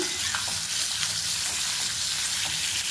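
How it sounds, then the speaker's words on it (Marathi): Sliced potatoes stir-fried in oil with cumin, mustard seeds and asafoetida, a loud continuous sizzle close by with occasional soft stirring scrapes, no voices. "आता याच्यावरती आपण हे बटाट्याचे जे काप केले ते घालायचे आणि व्यवस्थित आपण याला परतून घेऊया"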